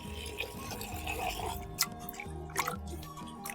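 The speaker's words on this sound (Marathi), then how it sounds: "चला पाणी टाकून घेतो आता" Water is poured over half a kilo of raw mutton to wash it, a faint trickle and splash with a few distinct drips and squelches.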